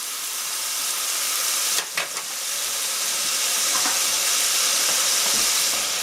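Drained beans dropped into a hot pan of Caribbean-style beans with herbs and pepper, a loud steady sizzle and hiss with a brief clatter as they land, continuing evenly afterward.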